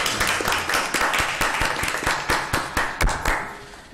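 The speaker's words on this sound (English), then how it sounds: "Let's give it another round of applause." A small audience at a school district board meeting gives a round of applause, with distinct individual claps in a loose, uneven patter across a few seconds in a modest indoor room.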